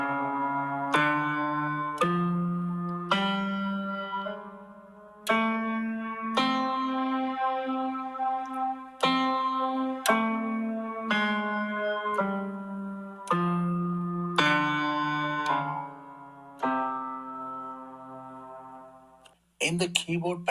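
A full Carnatic scale played on a keyboard: about a dozen separate, sustained notes each struck cleanly and held around a second, moving steadily through the scale at moderate volume before a brief pause and a new attack at the end.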